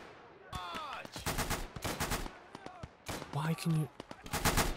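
Bursts of gunfire crack through a Second World War video game battle in Operation Tonga, loud and rapid with several volleys, while a voice talks over parts of the shooting.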